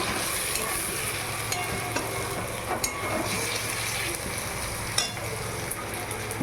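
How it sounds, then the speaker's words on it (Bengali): Spice masala fries in oil in a pan with a constant close sizzle, broken by sharp scraping strokes as the spoon stirs. No voices are heard. "এখন মশলাটা ভাজা ভাজা হয়ে গেছে, তেল ছেড়ে গেছে"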